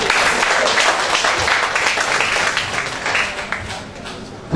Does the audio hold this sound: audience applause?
yes